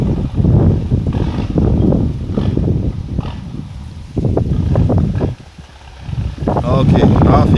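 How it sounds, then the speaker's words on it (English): Strong wind gusting across an outdoor field while soil is prepared for planting, blustery low rumbling buffets rising and dropping in waves, loud against the microphone, with a brief lull near the end. "The wind is very strong here, so you can hear the wind blowing"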